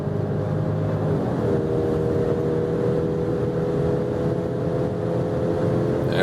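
A BMW X3 or Mercedes-Benz GLC accelerating in sport mode on the German autobahn from about 90 km/h, heard from inside as a steady engine drone with rising tonal whine over road and wind noise.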